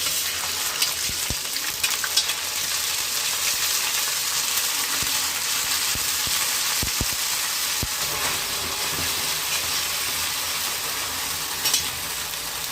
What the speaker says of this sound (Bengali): আন্দাজ মতো আদা রসুন বাটা দিলাম